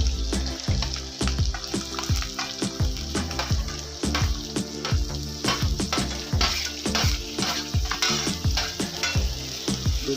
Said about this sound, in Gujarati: ડુંગળીને બી આપણે થોડીક વાર માટે શેકાવા દઈશું.